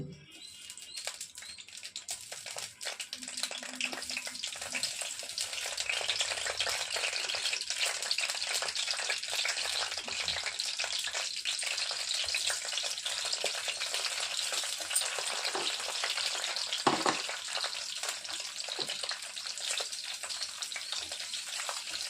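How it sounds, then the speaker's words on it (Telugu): Cut green chillies fry in oil over a high flame, giving a constant dense crackling sizzle that fills the whole stretch, close and even, with a few brief knocks of a utensil and no talking. "చట్నీకి ఇలా కట్ చేసుకొని వేయించాక చట్నీకి హై ఫ్లేమ్లో పెట్టుకొని వేయించుకోవాలి"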